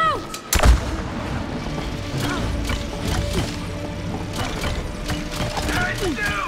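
Video game artillery blasts out in heavy booming shots mixed with clanking mechanical and ratcheting sounds; a loud hit lands early, followed by repeated rumbling fire and clatter.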